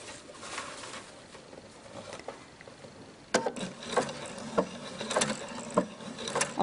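A sewing machine stitching a waistband with hem tape, quiet mechanical whirring that turns into a rhythmic run of clacking needle strokes up close, then stops with the needle down.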